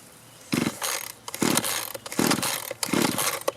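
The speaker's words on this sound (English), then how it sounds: "I like to pull the starter a few times" Four quick pulls on the recoil starter of a small engine being prepared for storage, each a loud ratcheting rasp and spin-up whir without the engine catching, spaced about a second apart.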